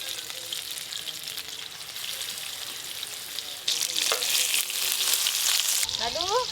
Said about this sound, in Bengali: যা মাছ আছে এবারে সব একসঙ্গে ভেজে নেব।